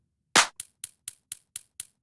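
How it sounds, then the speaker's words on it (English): A clap sample from a deep house track: one sharp, loud snap followed by a string of fainter, evenly spaced repeats that fade in a quick echo-like rhythm, heard alone. "There's our clap."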